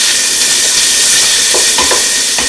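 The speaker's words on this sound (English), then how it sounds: "I'm going to put in one finely chopped onion. And we're going to saute this." A finely chopped onion sautéing for butternut squash soup gives a loud, dense, hissing sizzle up close, with a few faint scrapes or clicks of stirring near the end.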